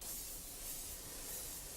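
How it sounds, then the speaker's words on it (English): A steady, soft airbrush hiss at 40 PSI spraying aluminium paint continues without a break, fine and airy, with no voices. "And now I'm just spraying on aluminium medium."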